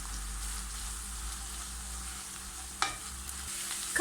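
Minced meat and onion fry together in a pan with a continuous close sizzle, broken near the end by a couple of sharp clicks as the mixture is stirred.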